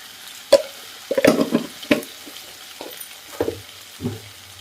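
Tomato and potato pieces with turmeric stirred in a pan for a Kerala theeyal, a series of scraping, clattering stirs with a light sizzle, close by and irregular.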